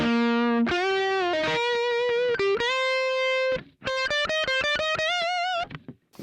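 Electric guitar notes and short melodic runs played through a Roland Cube amp with heavy high-gain distortion, close and loud, with brief gaps between phrases.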